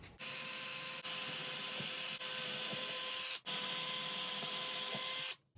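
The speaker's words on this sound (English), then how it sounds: "So we're going to drill here and we're going to stop when it hits the blue." A power drill runs steadily for several seconds with a high whine, drilling into bamboo flooring in an RV, pausing briefly twice before stopping, close by.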